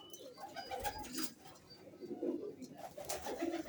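Old-breed pigeons coo softly in repeated low, throaty phrases at close range, alongside faint rustling and a little background noise.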